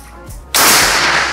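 A single sharp gunshot cracks out loudly after a quiet lead-in, a sudden broadband bang with a brief decaying tail, fired from a classic-style airgun.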